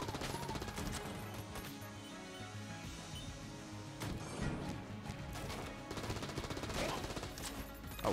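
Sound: gunfire from the Clob gun in the video game Enter the Gungeon

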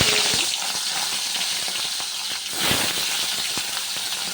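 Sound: hilsa fish frying in hot oil in a wok

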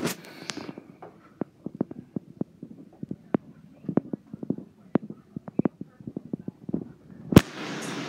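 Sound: video game explosions

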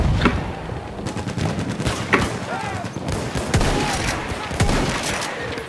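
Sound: gunfire in the video game Battlefield 1

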